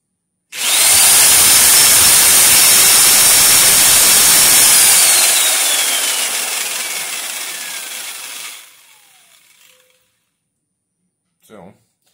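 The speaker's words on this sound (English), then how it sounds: "Hook up our drill." A power drill spins a 600M3 wind turbine on a bench test rig, giving a loud steady whine with a falling tone for about eight seconds as it winds down, followed by a short faint noise.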